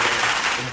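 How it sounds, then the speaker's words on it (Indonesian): Short burst of clapping and applause from a group, dense and fairly loud, lasting under a second with no voices over it. "Tepuk tangan dulu"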